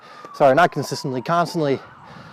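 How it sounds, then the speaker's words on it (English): A wailing siren sweeps up and down in the background while someone talks over it in the foreground. "ignore the sirens in the background"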